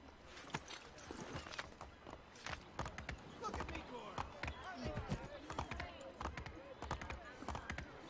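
Horse hooves clip-clopping in Assassin's Creed III, a quiet, fairly quick and uneven run of knocks that continues throughout, with soft murmuring voices underneath.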